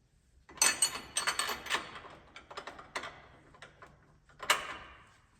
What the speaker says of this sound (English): I'm turning the wrench backwards